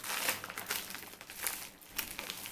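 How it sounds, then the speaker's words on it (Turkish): Plastic snack package crinkling as it is torn open, a steady crackle of handling noise with sharper crinkles in bursts, close up and alone. "Paketi sizin karşınızda açıyorum."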